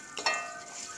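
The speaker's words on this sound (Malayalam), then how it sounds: "വെറുതെ കടുകും ചുമന്ന മുളകും കറിവേപ്പിലയും പാവയ്ക്കയിട്ട് നല്ലപോലെ ചുമക്ക വറുത്തെടുക്കണം" Mustard seeds, red chillies, curry leaves and bitter gourd frying in hot oil, a soft steady sizzle with a brief stirring scrape near the start.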